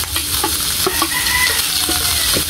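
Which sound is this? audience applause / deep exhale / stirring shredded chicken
stirring shredded chicken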